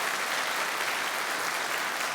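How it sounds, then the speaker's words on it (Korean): Audience applause welcoming separated families as guests at a Korean ceremony marking a world documentary heritage listing, a dense, continuous, even sheet of clapping from a large hall crowd, steady throughout without a pause. "여러분 큰 박수로 환영해 주시기 바랍니다"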